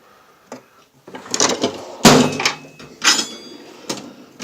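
Metal drawers of a Homak tool cart loaded with wrenches and pliers slide open and shut, giving several sharp clunks and rattling slides at close range, with no voices.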